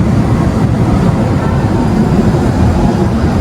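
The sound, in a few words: Purwojaya train being shunted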